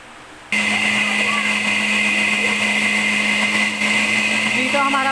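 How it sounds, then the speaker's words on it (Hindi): A kitchen blender whirs into action after a brief pause, loudly churning pineapple, mango, juice and ice for a mojito in one steady, high-pitched whine that runs to the end, with a voice faintly audible near the finish. "अब हम इसको ब्लेंड कर लेंगे अच्छे तरीके से।"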